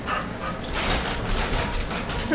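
A dog whimpering and yipping amid a noisy tabletop game session of the Great Pendragon Campaign, set in a medieval knightly scene, with its cries fairly faint and mixed into a dense background.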